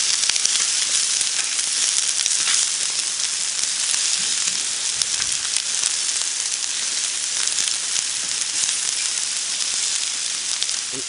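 Courgettes sizzle on a hot plancha griddle as they are stirred, giving a loud, dense and continuous hiss of frying with faint scraping underneath.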